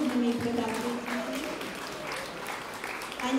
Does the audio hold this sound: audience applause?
yes